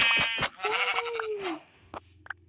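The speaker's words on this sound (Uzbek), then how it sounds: "Qo'ylarni o'ldirganimizda nima edi?" A Minecraft sheep gives one drawn-out, wavering bleat near the middle, with short clicky game sounds before it and a couple of soft taps afterward. No one speaks.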